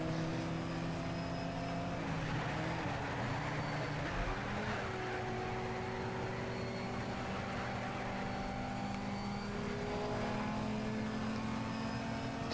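A small car's engine drones steadily at racing speed in Need for Speed: Shift, its sustained tone holding high with slight pitch shifts as gears change, loud and continuous with no one talking.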